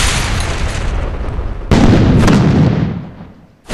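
Loud, continuous grenade blasts roar through a dinosaur-hunting shooter game, a dense booming barrage that briefly eases, then surges again with a fresh heavy burst.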